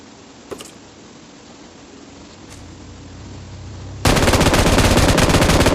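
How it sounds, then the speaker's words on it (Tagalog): Burst of automatic gunfire in the mobile battle-royale game PUBG Mobile, loud and sustained after a quieter stretch with a couple of sharp single reports earlier. "Ito ang putukan."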